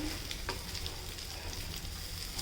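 An egg cutlet fries in a pan, giving a low, steady sizzle with faint crackles and a couple of soft scraping taps, fairly quiet with no voices.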